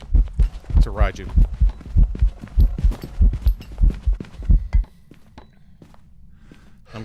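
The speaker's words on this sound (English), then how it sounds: "The heartbeat was like so thumping in my ear." Loud, close heartbeat thumps in the ghost-hunting game Phasmophobia, a rapid run of heavy rhythmic beats that stops abruptly, leaving a low hum.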